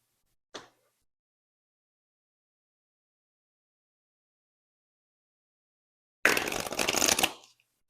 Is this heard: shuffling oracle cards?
yes